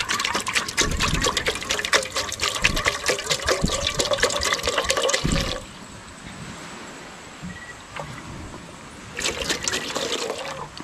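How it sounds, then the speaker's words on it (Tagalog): Water pours from a container into a cooking pot aboard a fishing boat at sea, a loud gushing splash for about five seconds, then quiet background, then a shorter second pour. "Lagyan lang natin ng tubig yung ating"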